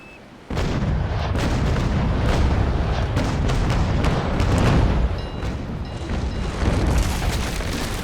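Heavy, rapid booming blasts in a dense barrage, loud and continuous like cannon fire from sailing warships in the video game Naval Action, with no talking.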